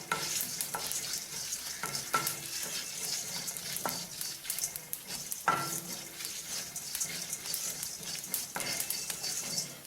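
Urad dal frying in a pan for a raw banana puttu poriyal, with steady sizzling throughout and repeated scraping strokes of a spoon stirring it, close and fairly loud, no voices.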